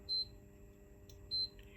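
A multimeter in continuity mode gives two short, high, clean beeps about a second apart while testing a diode on a Sinclair C5 control board. The beeps are faint against a quiet background.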